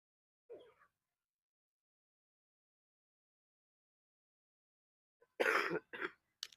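A faint, brief throat sound, then a short burst of harsh coughing near the end, quiet and close with silence between.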